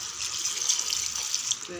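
Water poured into a pot of amaranth greens (arai keerai) with cumin and turmeric, a steady soft hissing splash over about two seconds, close and fairly quiet.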